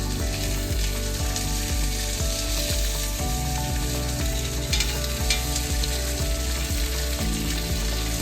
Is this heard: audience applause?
no